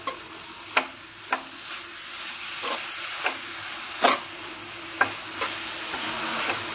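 A sweet laddu mixture of coconut and carrot with sugar is stirred and fried in a pan, with a soft sizzle under repeated sharp scraping strokes at an uneven rhythm.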